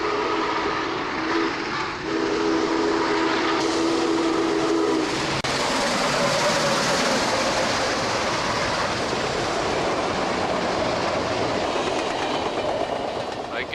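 A locomotive of the MSRL Snow Ball Express runs on the Elk Valley line, loud and close, with a steady rumble and rail clatter, and a horn or whistle sounding early on.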